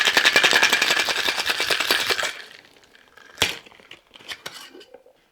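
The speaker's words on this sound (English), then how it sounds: "we're going to use 6 ice cubes in here, and we're going to give it a good shake" A cocktail shaker holding six ice cubes is shaken hard for a tiki martini: a fast, loud, rhythmic rattle of ice that stops abruptly, followed by a few scattered clinks and knocks.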